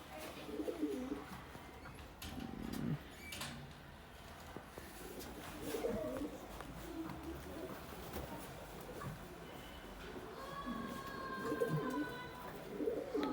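Pigeons freshly given a bath coo in soft, repeated low calls over a quiet background, with faint rustling and a few higher chirps near the end.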